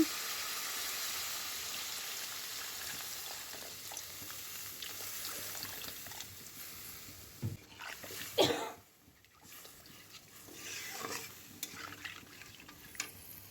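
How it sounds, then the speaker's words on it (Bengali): Water poured into a hot pan of spiced curry cooked with grated ginger gives a steady hiss and sizzle. It surges in a loud burst partway through, then settles back to a quieter bubbling simmer. "এখন আমি জল দিয়ে দিচ্ছি।"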